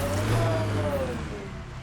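A car engine in the video game Mass Effect Andromeda revs hard, its pitch rising and then sliding down, loud and close for a couple of seconds.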